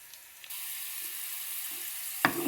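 Beetroot pieces frying in hot oil in a pan, a steady soft sizzle with a brief louder clatter near the end.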